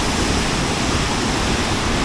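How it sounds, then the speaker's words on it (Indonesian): A tall waterfall, about 93 meters high, in Banyumas pours in a constant dense roar of falling water, loud and unbroken throughout. "air terjun ini memiliki ketinggian sekitar 93 meter dan termasuk air terjun yang paling tinggi di Kabupaten Banyumas"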